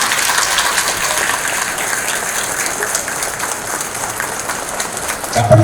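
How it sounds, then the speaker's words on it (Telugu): A seated audience at a community felicitation event in Hyderabad gives loud, sustained applause. Dense clapping holds steady throughout, with a faint murmur underneath. "ఒక్కసారి ఘనమైన చప్పట్లతో వారిని అందరినీ అభినందించి"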